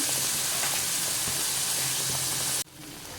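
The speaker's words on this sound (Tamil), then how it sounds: "நல்லா இந்த எண்ணெயிலே வந்து நல்லா ஃப்ரை ஆகட்டும்" Small onions sizzle and fry steadily in hot oil for a spicy prawn fry, a close, continuous crackling hiss that cuts off sharply near the end.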